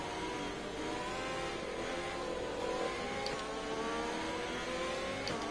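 Ferrari Formula 1 car engine from the F1 2020 racing game at the United States Grand Prix, a steady high-pitched whine with shifting pitch throughout, fairly quiet and continuous, with no talk.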